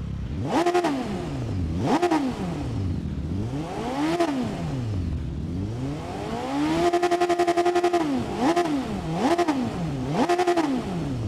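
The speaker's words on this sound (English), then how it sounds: "This is a stock exhaust. Let's rev it up here" A motorcycle engine with stock exhaust in the video game Ride 5 revs up and down repeatedly, pitch climbing and falling in rhythmic sweeps, with a quick burst of short revs near the end.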